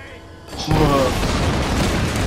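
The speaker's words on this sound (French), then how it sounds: "la lanterne va passer de l'autre côté et avec le gaz il y a tout qui va exploser" A gas explosion set off by a thrown lantern in the Tomb Raider game: a sudden loud boom after a quiet half-second, followed by a sustained rumbling roar with crackling debris that holds steady to the end.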